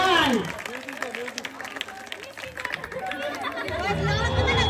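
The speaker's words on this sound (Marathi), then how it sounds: "टाळ्या वाजवा त्यांच्यासाठी." An audience at a village Ganesh festival Home Minister game show in Nigade, with bursts of applause and lively crowd chatter rising and falling under an announcer's voice.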